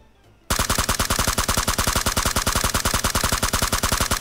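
Rapid automatic gunfire rings out in PUBG Mobile, a fast, even stream of loud shots that starts abruptly after a brief quiet moment and continues without pause.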